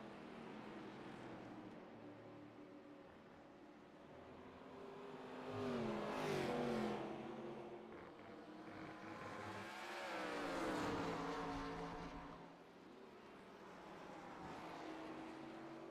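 Race cars in a sim-racing 1987 Living Legends series event at Watkins Glen roar continuously as they battle, with engine revs swelling loudly and sweeping in pitch twice mid-stretch. No voices.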